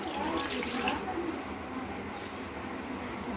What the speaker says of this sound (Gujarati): એ ગ્લાસ આપણે પાણી નાખશું